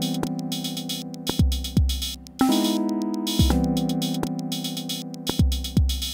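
A clean Elektron Model:Cycles synthesizer plays a jazzy pattern of chords over punchy bass notes that drop in pitch, with a steady rhythmic pulse and no voices.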